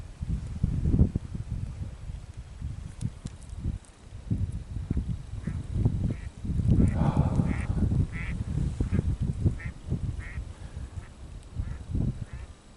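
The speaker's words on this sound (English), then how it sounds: "Duck." A duck quacks in a series of short calls beside Emigrant Lake in Oregon, mixed with wind and handling noise near the microphone, with a voice heard faintly.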